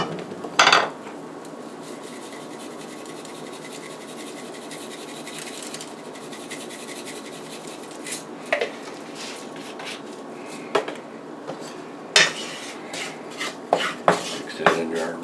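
Chopped onion stirred into a gumbo roux in a pot, a steady soft scraping bed broken by occasional sharp clinks and taps of a utensil against the pan, busier toward the end.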